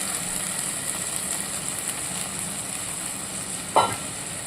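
Ground paste of mustard seeds and green and ripe chillies with a little salt and turmeric sautés in a pan for golda chingri malaikari, giving a steady, even sizzle with one short scrape near the end.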